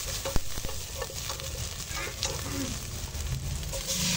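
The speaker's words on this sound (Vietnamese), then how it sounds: "phi thơm ít hành tím." Purple shallots fry in a pot on the stove with a steady, close sizzle, while a few stirring clicks and scrapes cut through the crackling oil.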